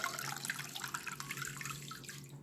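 Tap water runs steadily into a sink while a face mask is rinsed off, a close, splashy flow with small irregular splashes and no talk.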